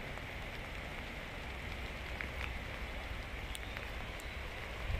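Steady spring rain falling in May outdoors, a soft continuous hiss of drops with a few brighter drips and taps, constant level throughout with no talking.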